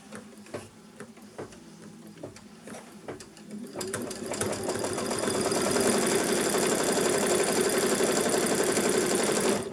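A sewing machine stitches a side seam tuck, starting with a few separate clicks and short runs, then settling into a steady, loud, close whir that continues to the end.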